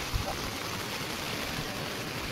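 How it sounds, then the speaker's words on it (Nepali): A river swollen after rain near Noonpani village rushes past in a loud, constant broadband roar that fills the whole clip without pause. "बिहानको भन्दा त निकै ठुलो भएछ खोला"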